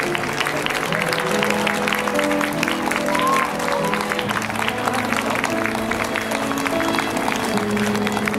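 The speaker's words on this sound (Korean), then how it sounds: "우리 신부님 입장 마치실 때까지 더 큰 박수 부탁드리겠습니다." Wedding guests applaud the bride's entrance at a ceremony, a steady wash of clapping continuing under sustained background music throughout.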